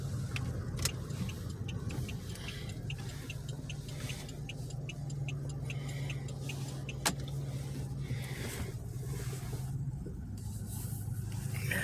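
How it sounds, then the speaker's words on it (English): A car passes along a street in a quiet neighborhood with empty lots and an old rail crossing, heard as a steady, moderate road rumble with low engine hum and faint ticking. "And I got a car coming,"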